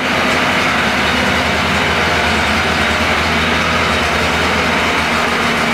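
Car engine idling right after a jump start with a TOPDON JS2000 booster, a loud, steady close-up rumble that holds evenly with no talk over it.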